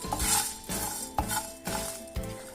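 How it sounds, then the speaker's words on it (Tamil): Coriander, dry chilies, fenugreek, cumin and curry leaves dry roasting over a low flame, stirred with a utensil in a pan: quiet rhythmic scrapes and clinks, about five strokes, with no talking. "மல்லி, காஞ்ச மிளகாய், வெந்தயம், சீரகம், கருவேப்பிலை இதை லோ ஃப்ளேமில் நல்லா ட்ரை ரோஸ்ட் பண்ணுங்க"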